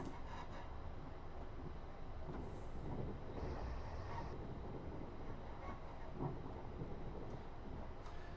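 A passenger train runs along the Portsmouth Direct Line, giving a continuous low rumble and rattle of wheels on track with steady, dense noise throughout and occasional brief clanks, heard from inside the train without speech.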